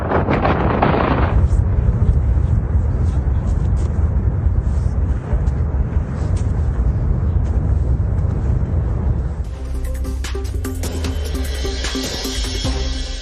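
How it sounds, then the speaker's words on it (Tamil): A volcano erupting in Hawaii: a deep, continuous roaring rumble with crackling bursts, loud and close, shifting to a hissing, higher-pitched texture toward the end. "அமெரிக்காவின் ஹவாய் மாகாணத்தில் வெடித்து சிதறிய எரிமலை"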